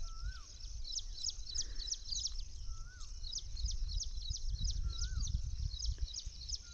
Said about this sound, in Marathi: पक्ष्यांचा मस्त चिवचिवाट चाललाय